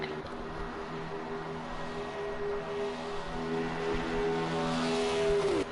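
NASCAR stock cars racing at Daytona in Project Cars 2 give a continuous engine drone with sustained tonal whine, a pitch bend near the end, and no talking.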